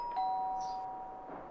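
A doorbell in The Sims 3 video game gives a single clear two-tone ding-dong chime that rings out and fades, with a faint tone lingering afterward.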